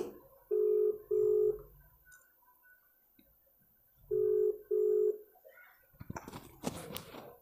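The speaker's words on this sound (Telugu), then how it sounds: "నేను కాల్ చేస్తాను చూడండి ఓకే కాల్ వెళ్తుంది" A phone call rings back after dialing, giving two short double-ring bursts of tone with a pause between them, followed by faint handling noise and clicks.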